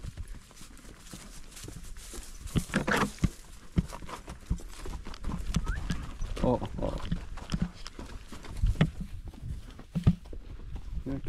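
Horse hooves clip-clop steadily during a horseback ride toward a ravine, with cattle nearby. The rhythmic, close hoofbeats keep going under frequent conversation.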